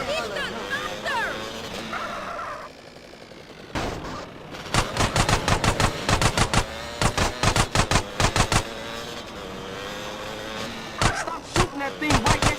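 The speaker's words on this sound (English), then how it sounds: "Stop shooting that thing right next to my ear!" Rapid bursts of machine-gun fire in GTA: San Andreas during a chase, loud and close, sharp rattling volleys repeating in fast strings over car engine noise, with frantic voices shouting.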